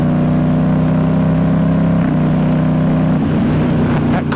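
A 2019 Ducati Diavel S with a full exhaust system drones loudly and steadily under riding, its deep engine note shifting slightly as gears change through a quick shifter.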